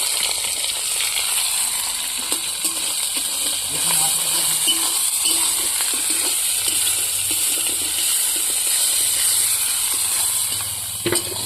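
Chopped onion fries in oil with bay leaf and whole cumin, a steady, bright hiss of sizzling that holds evenly throughout, with faint clicks of stirring.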